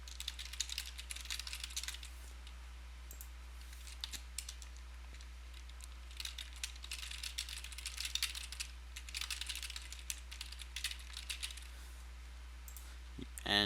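Steady typing on a computer keyboard while text is entered, a continuous patter of close, quick key clicks over a constant low hum, with no speech.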